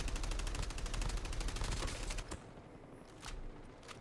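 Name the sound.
gunfire from a distance in Call of Duty Mobile video game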